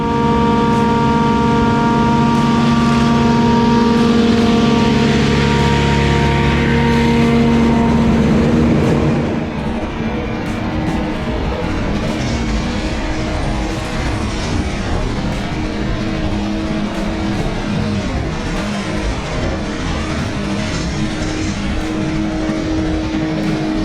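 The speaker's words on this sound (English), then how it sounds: "you can hear the forage harvester, different kettle of fish cutting maize" A forage harvester cutting maize for silage runs loud and close, a steady mechanical roar with strong engine hum that shifts after about nine seconds into a broader, rougher churning noise continuing to the end.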